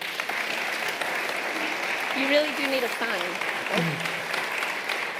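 Congregation applause at a church's 15th birthday service fills the space as a steady, dense clatter of many hands, with a person speaking briefly over the clapping.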